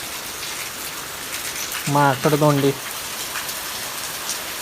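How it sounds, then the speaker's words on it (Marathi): Heavy rain pours down in a dense, steady hiss that fills the whole stretch. A voice speaks briefly over it partway through. "जोर वाढलेला आहे पावसाचा आता बघा बघतोय पाऊस पडताना"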